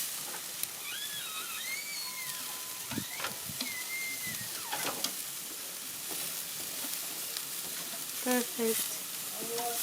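Halloween pumpkin slices cook on a grill under a cover, giving a continuous soft sizzle and hiss with a few light clinks and squeaky tonal chirps. A single short spoken word comes near the end.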